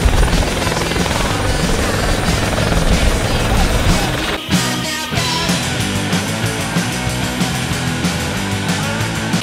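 A helicopter flies loud and close overhead at an outdoor grill, its dense rotor thrum and engine roar filling the whole stretch with a brief dip partway through, while people shout faintly beneath it.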